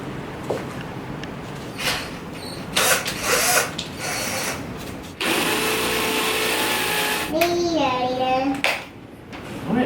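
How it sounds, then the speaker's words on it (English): A power drill bores into a wall in a sustained whirring burst lasting a few seconds, with ratcheting clicks, handling noises and a voice around it. "I have to drill holes in the wall."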